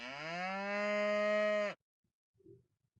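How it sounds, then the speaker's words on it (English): A cow in the video game ReKinder gives one long, loud, drawn-out moo lasting nearly two seconds, followed by a brief faint rustle. "Why is there a cow?"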